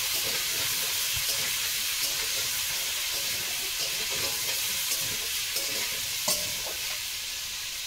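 Potatoes with spices fry in a covered pan, giving a steady, close sizzle that holds evenly throughout with a few soft clinks and stirring touches, and no talking.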